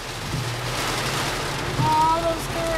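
Steady storm rain patters continuously on a surface along an ocean boulevard, a soft even hiss filling the background with faint distant sounds mixed in.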